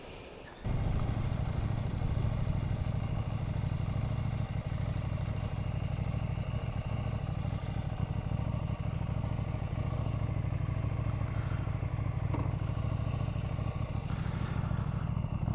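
KTM 790 Duke motorcycle ridden on a very cold day, its engine droning steadily from start to finish under rushing wind noise, loud and close.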